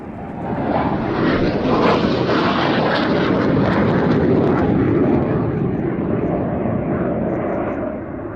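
A Saab Draken, a Swedish fighter jet, flies by with a loud, broad, steady roar that builds quickly, holds for several seconds and eases slightly at the end.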